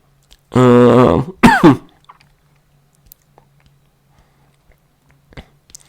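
A person with a cold gives a long, strained throat clear followed by a short second cough up close, then quiet with small mouth clicks and faint movements.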